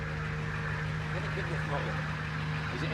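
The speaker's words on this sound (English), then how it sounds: "You can hear that engine." A big American-built WRC rally car idles at Rally Estonia 2023, a steady low engine hum running unbroken throughout without any voices.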